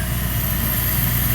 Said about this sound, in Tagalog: Ayan pala, magnetic motor conveyor.